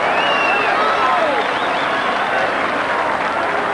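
A rugby crowd applauds a try at a 1985 Newbridge match, a loud, continuous wash of clapping and cheering that holds steady across the whole stretch, with a faint voice audible beneath.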